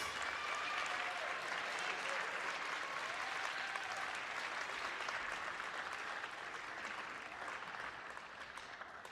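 Applause from a school orchestra recital audience honoring Ms. Roberts, a dense, steady wash of many hands clapping that holds at an even level throughout, with voices mixed faintly in the crowd.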